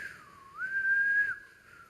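A single person whistles a short, clear, wavering tune in a church, one steady sustained note after a brief dip, alone and close.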